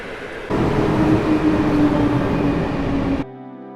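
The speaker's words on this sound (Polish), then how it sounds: "pociąg Intercity" An Intercity train rolls past at Warszawa Zachodnia station, a steady loud rumble and rush that starts abruptly, holds for nearly three seconds, then cuts off.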